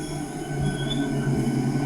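A train at Jhaluarber railway station gives a steady, continuous rumble with faint wheel and rail tones, heard alone throughout.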